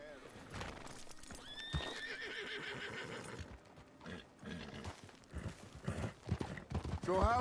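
A horse whinnies loudly near the start while hooves clip-clop in an uneven, nearby rhythm, with people talking and other noises mixed in throughout.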